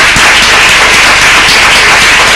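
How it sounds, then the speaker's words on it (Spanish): A lecture-hall audience breaks into loud, dense applause, many hands clapping continuously in a thick, close wash of sound with scattered sharper claps, no speech. "yo creo que me podéis permitir un aplauso a todos vosotros"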